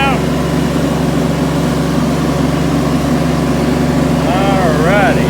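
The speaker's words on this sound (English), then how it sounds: "This guy's going to be a professional tractor driver." A boy drives a tractor, its engine running in a steady, loud low drone close by, with an adult voice talking over it.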